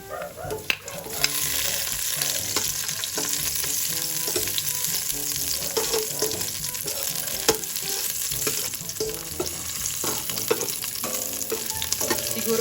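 Ginger and garlic sauté in hot oil for salmon sinigang, a continuous near sizzle broken by frequent clinks and scrapes of a spoon stirring against the pan, with no one talking.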